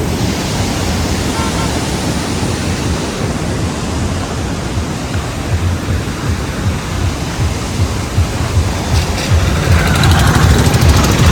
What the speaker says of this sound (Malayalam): ഈ ഒരു ഷട്ടർ ഇപ്പം തുറന്നിട്ടാ അതുകൊണ്ട് നല്ല ശക്തിയായിട്ടാണ് വെള്ളം ഒഴുകുന്നത്